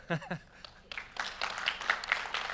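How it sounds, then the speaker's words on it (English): At an opening session, a voice speaks briefly before an audience breaks into applause that builds and keeps going to the end. "round of applause for Peter"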